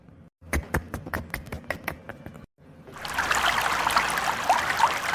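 A few sharp knocks or drips at first, then after a short pause a steady stream of running water trickling and splashing continuously in a bathroom.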